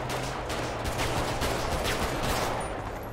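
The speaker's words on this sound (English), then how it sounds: "They're gonna shoot these guys." Gunfire in the video game GTA 5, continuous rapid automatic shots over a low engine-like hum, steady and fairly loud with no talking.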